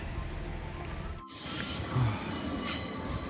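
Train wheels squeal loudly against the rails, a sharp, close, sustained metallic screech that starts abruptly after a quieter rumble and carries on to the end.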